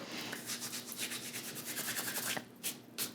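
Dried basil rubbed between hands over a mixing bowl while making meatloaf sliders: a close, steady scratchy rustle lasting a few seconds, ending in a couple of brisk brushing strokes.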